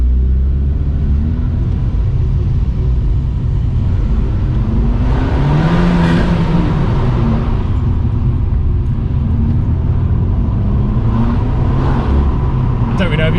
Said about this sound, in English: the exhaust is standard on this, so it's not that loud, but it does have a nice tone to it